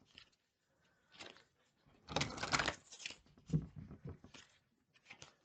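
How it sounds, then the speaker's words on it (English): Quiet rustling and flicking of large Chinese fortune cards being shuffled, a few soft bursts with pauses between them, close by. "2 more shuffles."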